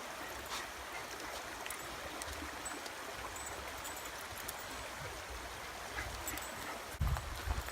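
A creek flows beside a river trail with a faint, steady rushing wash that continues without a break, plus a few soft knocks near the end.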